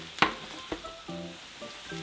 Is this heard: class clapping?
no